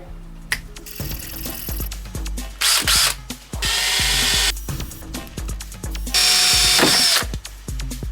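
Power drill whining in several bursts while drilling a small kukri keyring knife, starting and stopping, with clicks, knocks and handling noises in between; close and fairly loud; the drill bit breaks.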